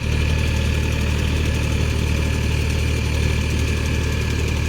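A diesel engine runs steadily, pumping water into a farm field, with a loud, close, continuous drone and no pauses.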